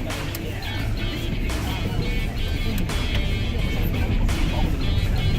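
A car drives off-road over rough terrain, its engine and road rumble forming a steady, loud, continuous bed with occasional jolts and knocks from the uneven ground.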